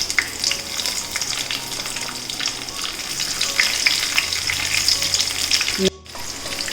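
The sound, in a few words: sautéing chana dal and urad dal with chillies in ghee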